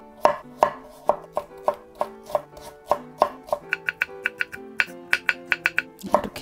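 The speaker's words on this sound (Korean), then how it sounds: "오이는 이제 채 썰어 보겠습니다" A knife julienning cucumber on a cutting board, cutting it into thin strips for a cold cucumber and seaweed soup. Close, crisp chopping taps land in a steady quick rhythm with no talking.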